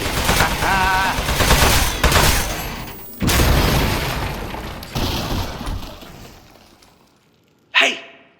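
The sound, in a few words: shooting in video game Aperture Desk Job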